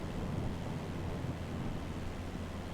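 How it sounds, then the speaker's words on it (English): Steady, rumbling thunder from a storm seen in a flight simulation between Romania, Moldova and Ukraine rolls on as a continuous low, broad roar, fairly faint and without any voices. "Still thunder and lightning."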